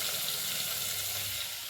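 Vaghar tempering for a village-style fenugreek seed curry, with tomato, ginger and chilli in hot oil, giving a loud, even, continuous sizzle close by, without pauses or talking.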